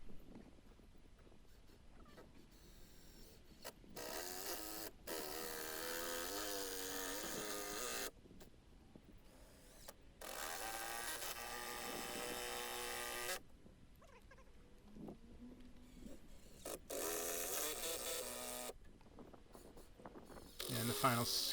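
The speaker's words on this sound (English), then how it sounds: "the final screws going in for the last brace" A power driver sets the final screws into the last brace of a wooden outdoor puppet theater stage, sounding as several short, whirring bursts separated by quiet pauses, faint and close by.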